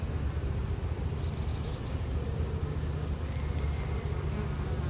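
Black bees in an established nucleus hive at a city farm hum steadily and densely, a close, continuous buzz with no talking.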